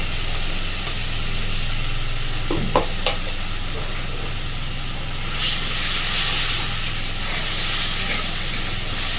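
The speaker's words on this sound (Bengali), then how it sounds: "মশলাটাকে খুব সুন্দরভাবে কষতে থাকবো যতক্ষণ না মশলা থেকে কাঁচা গন্ধটা চলে যাচ্ছে" Ground paste of onion, ginger, garlic and red chilies frying in a pan with steady sizzle and hiss, occasional scrapes of stirring, the sizzle swelling louder toward the end.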